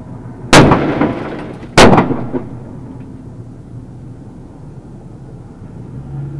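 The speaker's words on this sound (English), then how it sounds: "Shots fired. Shots fired." Two loud, sharp gunshots crack close by about a second apart during a police shootout in Pasadena, Texas, each one leaving a short echoing tail before a low outdoor hum.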